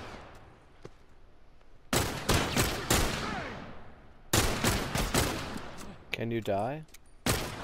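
Rapid bursts of gunfire in The Last of Us, several loud volleys in clusters during a bandit attack, with a brief voice speaking between shots.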